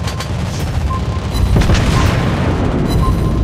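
Heavy deep booms from shells striking a target roll through an ongoing naval battle in World of Warships Blitz, loud and dense with rumbling gunfire and crashing impacts in the mix.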